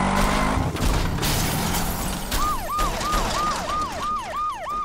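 Rumbling traffic and noise give way to a wailing emergency siren with a rapid, repeating yelp pattern that grows more prominent, joined by a second siren.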